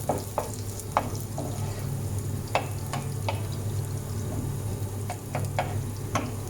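Garlic sizzles steadily in a hot pan while a utensil stirs it, sharp scraping clicks popping out at irregular moments over the constant frying hiss, close and unaccompanied by talk.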